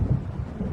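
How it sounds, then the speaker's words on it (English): Low rumbling thunder from an approaching storm in Alan Wake Remastered, a deep rolling boom with faint rain and wind texture, fairly loud and steady, no voices. "It seems there's a storm coming."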